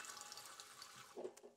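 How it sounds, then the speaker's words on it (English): Water running from a kitchen sink faucet, a soft steady stream heard close and fairly faint, with a brief louder splash or clatter near the end. "I have to turn on the water from the faucet."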